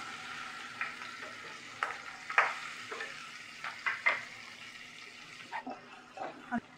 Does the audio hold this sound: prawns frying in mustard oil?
yes